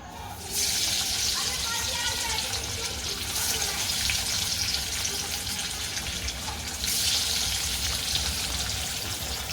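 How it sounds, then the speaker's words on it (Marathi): Pieces of alu vadi drop into hot oil and fry with a loud, hissing sizzle that surges when each batch goes in, steady and close throughout. "आपले तेल आता चांगले गरम झाले आहे त्यात आपण या अळूवड्या आता सोडूया"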